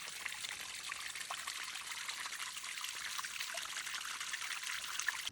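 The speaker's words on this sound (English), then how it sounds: "this was my first time actually filtering water with the smart straw" A faint, steady trickle of water runs continuously as water is filtered through a Smart Straw on the Appalachian Trail, with no talk over it.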